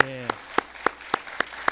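A church congregation at a Sunday worship service claps. It starts on the tail of a spoken word, then about eight sharp, evenly spaced claps follow in a quick, steady rhythm.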